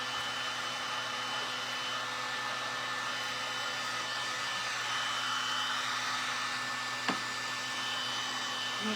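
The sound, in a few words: hair dryer drying paint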